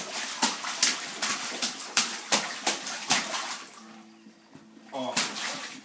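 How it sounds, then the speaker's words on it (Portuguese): A child splashes water in a bathtub, sending repeated loud slaps and sprays in an uneven rhythm close by, with a short lull near the end before splashing resumes. "Nossa, tá espirrando água pra todo lado."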